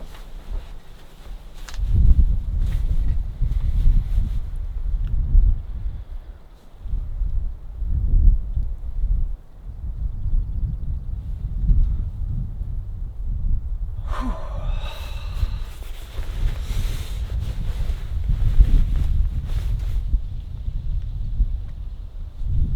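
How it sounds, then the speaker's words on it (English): Strong outdoor wind gusts buffet the microphone in loud, uneven low rumbles over a long stretch. A brief breathy sound cuts through partway. "It's also really windy out."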